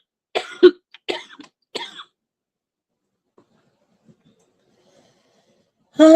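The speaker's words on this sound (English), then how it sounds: "I'm so sick of coughing." A person coughs close up in several harsh bursts spread over two seconds, followed by near silence until a voice starts at the end.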